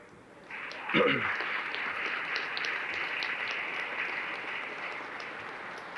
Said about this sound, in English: please give them a round of applause for the accomplishments of their son and their student.